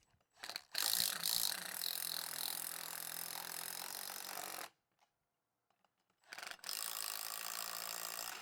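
A ratchet tightens 7/16 Nylock nuts over grade 8 flat washers and a large backing plate on a shipping container lock box fitted to a cargo trailer. Two close, loud bursts of rapid clicking are separated by a brief silence.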